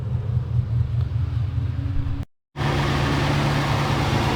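A high-mileage car engine with about 365,000 miles runs at a steady, close rumbling idle, cuts out briefly to silence, then restarts and settles back into the same even drone.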